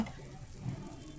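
Batter sizzles in a pan over a gas flame, a soft continuous frying hiss heard close up and fairly quiet, with no one talking.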